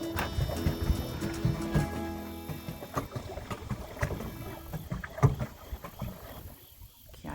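Paddling a small boat on the water while fishing for catfish, with irregular watery splashes and soft knocks against the hull, close and moderately loud throughout.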